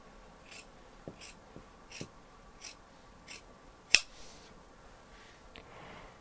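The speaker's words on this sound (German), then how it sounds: "jetzt schneide ich das Ganze aus, und zwar erstmal hier am Halsausschnitt vom Rückteil" Scissors snipping through fabric around the neckline of a hoodie back piece, a series of soft, evenly spaced crisp cuts with one sharper snap, close and quiet in a still room.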